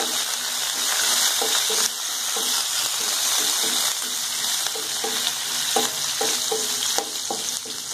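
Curry leaves sizzle loudly in hot tempering oil for tomato rasam, a dense steady crackle broken by repeated scraping and stirring clicks, heard close with no voice.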